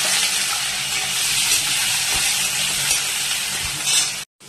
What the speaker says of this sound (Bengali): এবার আলুগুলো লাল লাল করে ভেজে নেব।